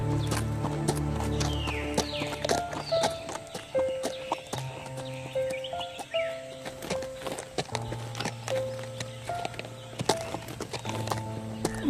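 Horse hooves clip-clop at a walking pace in an animated story, a loose repeated patter mixed with tonal music and sound effects, with faint whinny-like calls in the background.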